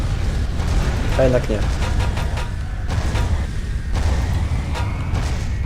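Explosions in the video game Advent Rising, in a volcanic valley level: a steady rumbling, crackling roar with several sharp bursts, heard under someone speaking.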